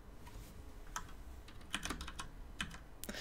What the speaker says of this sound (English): You're gonna know who I am just by me typing. Because my keyboard's so fucking loud.